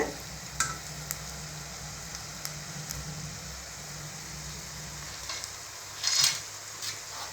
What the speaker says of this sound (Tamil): நல்லா ஃப்ரை ஆகிட்டுருக்கு.